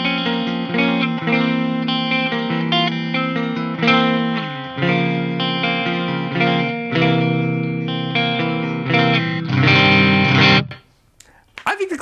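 An electric guitar plays sustained chords and melodic lines through the clean channel of an EVH 5150 III Hypersonic amp with a chorus-like shimmer, ringing fairly loud before stopping abruptly near the end.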